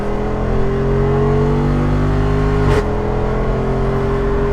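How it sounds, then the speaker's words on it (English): A Jeep Wrangler 392 V8 pulls hard under full throttle, a loud, close, steady engine drone with a sharp brap and pitch drop on an upshift partway through, then climbs again; no talking. "you get those nice braps on the upshifts. Straight dig, 1, 2, 3"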